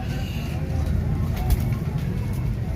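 Pigeons cooing at a crowded pigeon market in Lahore, Pakistan, soft low coos blending into a busy background hum with faint distant traffic.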